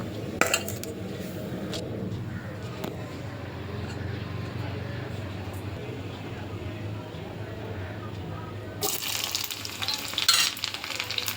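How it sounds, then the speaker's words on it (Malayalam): Hot oil crackles and sizzles steadily with scattered pops as mustard seeds fry for tempering, a burst of louder spattering near the end, alongside faint clinks of a utensil against the pan. "നമുക്ക് ഇതിൻ്റെ കടുക് വറുത്തിടാനായി വറവ് ശരിയാക്കി എടുക്കാം."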